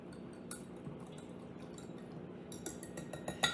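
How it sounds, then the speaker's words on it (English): A mini whisk stirs sauce in a bowl for a lemon dill pasta salad. Faint, quiet scraping and tinkling is heard close up. Toward the end it turns into a quicker run of light metallic clinks against the bowl. "Now I'm going to use my mini whisk here to whisk this up."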